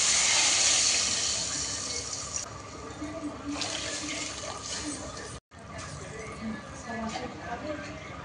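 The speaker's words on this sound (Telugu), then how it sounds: "దాంట్లో 3 cups ఆఫ్ వాటర్ పోసుకున్నాము." Three cups of water poured into a pot holding two cups of soaked basmati rice for bagara rice, a steady close splashing rush that starts loud and then settles into a softer continuous flow.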